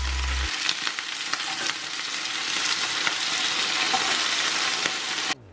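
Boiled pierogi fry in a pan, giving a dense, continuous close sizzle with faint stirring crackles throughout, ending abruptly.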